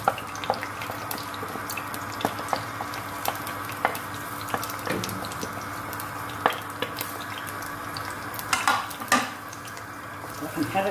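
Rice stirring and frying in hot oil in a pan, a steady low sizzle under scattered scraping and clinking from the spoon, close and moderately quiet, with no talk.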